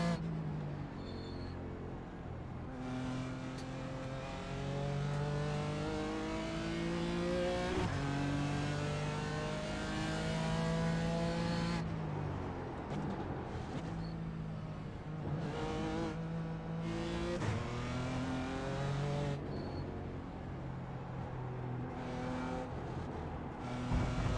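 A GT4 race car engine in the iRacing sim drones loudly and continuously, repeatedly climbing in pitch through the gears and dropping at each shift, with no talk.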